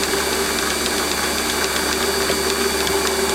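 A Warco WM180 lathe countersinks a small metal part, producing a loud, steady motor drone with a faint, regular ticking running through it and no break in the hum.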